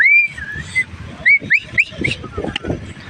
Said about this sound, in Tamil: அந்த விசில்லாம் பயங்கரமாக அடிக்கிறாரு.